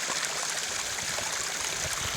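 A small forest stream trickles and babbles along a hiking route by the Nugush river, a steady, soft, close rush of water with no voices.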